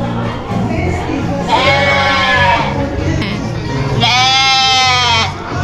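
Sheep bleat in two drawn-out, wavering calls close by on a farm in Guatapé, Antioquia, with a steady low rumble beneath and no voices heard.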